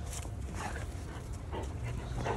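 A dog panting in the snow outdoors in winter, with steady breathy puffs running through the whole moment at close range and a low rumble of wind or handling underneath.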